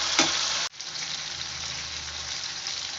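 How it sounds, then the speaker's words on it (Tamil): Tomatoes sautéing in a hot pan for pirandai (adamant creeper) chutney give a steady, close broadband sizzle, broken by one brief stir-clatter early on, then continuing evenly without talk. "இதை வந்து நல்லா வதக்கிக்கிறோம் தக்காளி நல்லா வதங்கணும்"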